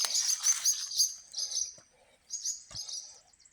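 Small birds chirp and tweet beneath a covered bridge near Gettysburg, Pennsylvania, quick high twittering calls in bursts with short pauses, moderately close but soft.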